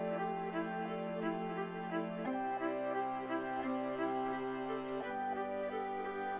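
An orchestral arrangement of a song's chord structure, sustained string-like chords shifting twice, smooth and steady with no talking.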